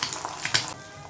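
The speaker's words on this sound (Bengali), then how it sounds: "আবার আমি এটা ফ্রাই করে নিচ্ছি" Food frying in a pan during cooking of an egg and peas curry, a soft steady sizzle with brief crackling bursts, close and quiet, no voices.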